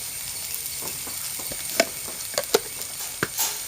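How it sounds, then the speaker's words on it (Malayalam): Chili powder and turmeric sizzle in a hot pan with okra dish ingredients, a steady low frying hiss broken by a few sharp crackles and stirring scrapes, fairly quiet and close, no talking. "ഇതൊന്ന് ഇളക്കുക അടുപ്പത്തായതുകൊണ്ട് പെട്ടെന്ന് പെട്ടെന്ന് ചെയ്യണം"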